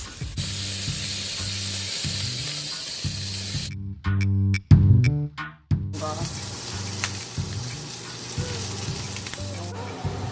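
Bacon crackling and sizzling in hot oil while ribs, string beans and potatoes are being cooked, a close, steady hiss with a burst of louder spattering in the middle before the frying settles back.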